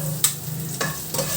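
Sliced ginger sizzles steadily in a hot pan, with three brisk scraping stirs of a spatula breaking through the crackle.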